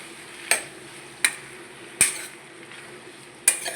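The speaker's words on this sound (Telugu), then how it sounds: "ముందుగా ఆనపకాయ ముక్కలు మగ్గించుకోవాలండి. బాగా సిమ్లో పెట్టుకొని వేపుకోవాలండి." Bottle gourd pieces fry softly in a pan for a masala curry, a low steady sizzle broken by four sharp scraping stir strokes.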